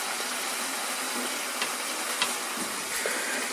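Fried fish koftas sizzle while being stirred through a cooking masala: a dense, steady frying hiss, close and fairly quiet, with a few small pops and scrapes.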